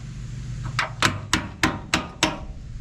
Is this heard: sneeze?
no